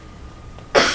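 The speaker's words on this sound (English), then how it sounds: "I'm going to stop coughing." A single sharp cough bursts out near the end of a quiet moment at a school building committee meeting, close and abrupt after faint room hiss.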